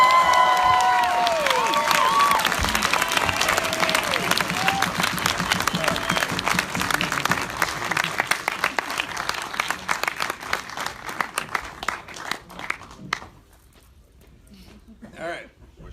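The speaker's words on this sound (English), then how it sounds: "big round of applause, Renny Harlin." A theater audience at a 30th anniversary screening of A Nightmare on Elm Street 4 bursts into loud, sustained applause and cheering, with whoops over dense clapping that gradually thins and fades toward the end.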